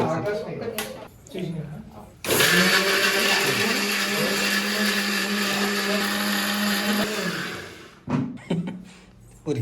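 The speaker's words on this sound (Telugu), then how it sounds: "అల్లం ఉల్లిగడ్డ ఉల్లిగడ్డ అన్నీ ఒకసారి మిక్సీకి" A kitchen mixer grinder blends ginger and onion in one loud, continuous whirring run of about six seconds, with a person talking briefly before it starts and after it stops.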